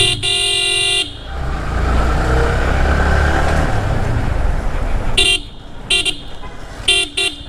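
A secondhand Yamaha R15 V3 motorcycle runs with a steady, close engine roar through the middle, framed by sharp horn toots at the start and several short horn blasts near the end.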